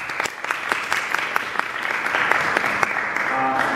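An audience at a debate event applauds the candidates with steady, close clapping that builds in density and holds, while a voice briefly speaks over it near the end.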